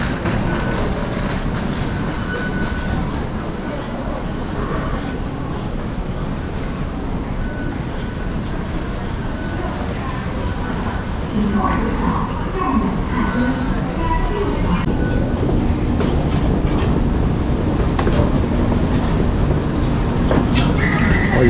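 A metro train arriving at a station in Taiwan, a steady rumbling rolling noise with some screechy wheel tones that grows slightly louder toward the end, heard from the platform while someone talks.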